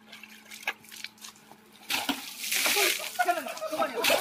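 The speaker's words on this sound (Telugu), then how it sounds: "విత్ ఇన్ 2 seconds బకెట్ నీళ్ళు నా మీద పోసేస్తున్నారు" A bucket of water is dumped over a person at a birthday celebration. Quiet, scattered sounds come first, then a sudden broad rushing splash and slosh that keeps spattering to the end, with voices mixed in.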